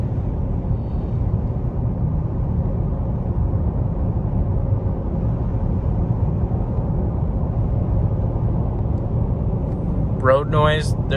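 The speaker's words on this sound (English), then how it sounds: "there's a considerable amount of more road noise in this car than my Lyriq" Cabin road noise in a moving 2025 Cadillac Optiq electric car, a steady low rumble and hiss of tires at speed that holds evenly throughout, with a brief voice near the end.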